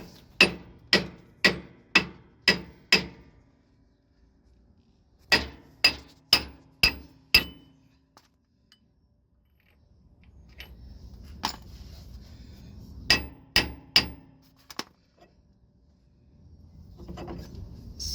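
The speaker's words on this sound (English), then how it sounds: "we're gonna try to take off that yoke with the hammer" A hammer strikes a Freightliner Cascadia truck pinion yoke to knock it loose, sharp metallic blows in quick bursts of five or six, separated by pauses with faint shop rustling, close and clear.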